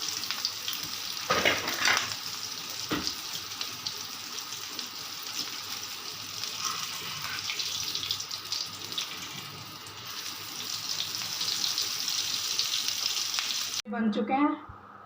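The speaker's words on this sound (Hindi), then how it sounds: "अब हम फ्राई कर रहे हैं शामी।" Shami kababs of beef frying in a pan, a steady sizzle running throughout at moderate loudness, with a sharp clatter near the end.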